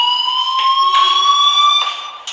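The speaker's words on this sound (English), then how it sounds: "Hey, do you hear that fire alarm?" A loud, steady electronic fire alarm tone ringing continuously at close range in the video game Life is Strange, with a few faint thuds underneath.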